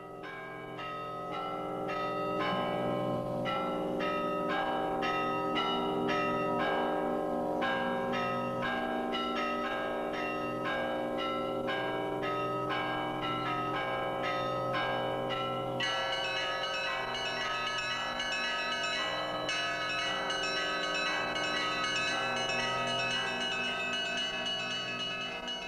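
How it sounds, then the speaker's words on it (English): Many church bells ring out from a monastery belfry in Suzdal in a continuous layered peal, steady and full, with a brighter set of bells joining partway through and no talk. "Archimandrite's building and monastery belfry, where we can hear the gentle music of numerous bells"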